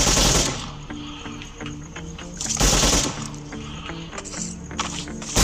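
A new gun fires in the mobile battle game BGMI, with rapid automatic bursts of sharp shots in quick rhythmic runs, loud and close, broken by short pauses and heavier blasts.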